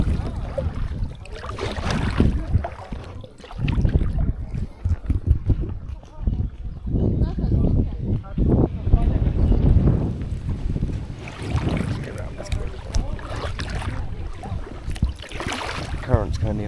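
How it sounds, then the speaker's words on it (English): Wind gusts buffet the microphone as a kayak moves on open water, with uneven rushing bursts and a voice talking over parts of it. "the wind's blowing the same way"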